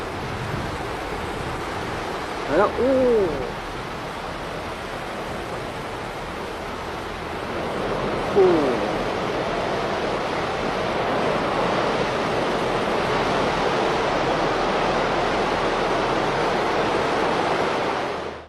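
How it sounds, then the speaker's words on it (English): Ocean water rushes in to fill a huge hole left by a collapsed landslide, a loud, continuous roar of surging water and wind noise that swells briefly with no voices present. "That is an ocean filling the massive space"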